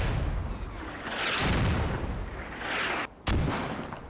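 Mortar rounds exploding in the military shooter game Squad, with several loud booming blasts and rumbling debris, one sharp detonation standing out near the end.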